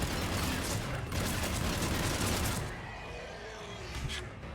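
Dense, loud gunfire with incendiary ammo in the video game Mass Effect 3, a rapid fusillade of shots and booms that fills the first half before easing into quieter rumbling combat noise.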